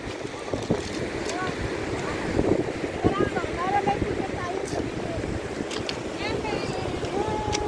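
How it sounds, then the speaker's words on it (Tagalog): Strong wind blows by the sea on a picnic outing, buffeting the microphone in gusty rumbles over the faint wash of waves, while people talk nearby. "Lakas ng hangin."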